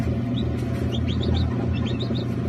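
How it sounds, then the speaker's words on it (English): Tiny chicks peep in high, quick chirps inside an incubator, their calls scattered over the steady, loud drone of the incubator fan. "The fan from the incubator is really loud, so I apologize, but I was hoping you could hear their little peeps."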